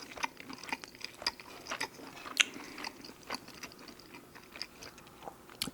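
Someone bites and chews a Tim Hortons garlic supreme stack sandwich of beef, cheese and onions, with close, crisp crunches and soft mouth sounds in an irregular rhythm and no talking.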